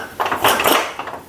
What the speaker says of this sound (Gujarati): હવે કુકર ખોલીને આપણે દાળ ચેક કરી લઈશું